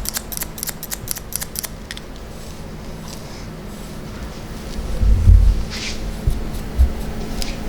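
Close hair-cutting scissors snip in a quick series of crisp metallic clicks, notching bulk from a classic gentlemen's haircut, then pause amid faint rustling and low room hum.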